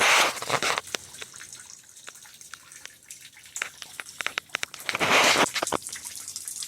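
Water from a small waterfall at Pickle Springs, Ste. Genevieve, Missouri, drips and trickles in scattered close drops, with two brief louder rushing splashes, like a thin fall of water onto rock.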